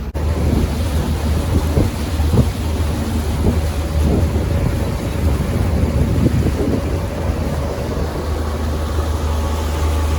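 A small motorboat runs on a lake in early April, its engine a steady low drone mixed with heavy wind buffeting and water splashing that continue without a break, with no voices.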